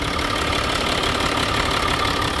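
Steady idle of a Land Rover Discovery 4 engine, a continuous broadband mechanical hum heard close up with no talking and no change in level.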